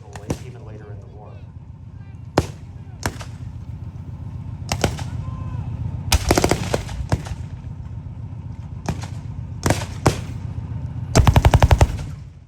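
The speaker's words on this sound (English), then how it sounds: "Universal Carriers that are usually armed with Bren 303 caliber machine guns, which you can see some of the firing." Bren .303 machine guns mounted on Universal Carriers fire at a tank event, sounding as sharp single shots and short bursts spread across the scene, with a denser rapid burst near the end over a steady engine rumble.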